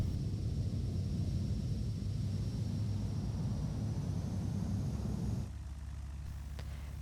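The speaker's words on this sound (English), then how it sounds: "the aircraft will glide too far down the runway and possibly go off, as you can now just see in this example" Airliner landing too fast in Microsoft Flight Simulator X, a steady loud engine roar and rolling rumble with a thin high whine, dropping abruptly to a quieter, lower hum near the end.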